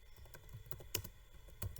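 Quick keystrokes on a computer keyboard while HTML code is typed, a short burst of close, crisp clicks in an uneven rhythm with no talking.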